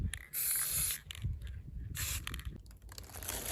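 Two long bursts of spray paint hissing from a can onto a craft figure's taped-off eyes, with short rattling, clicking handling sounds in between.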